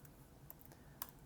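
Someone types on a computer keyboard, a brief soft run of quiet keystrokes with a couple of slightly sharper clicks.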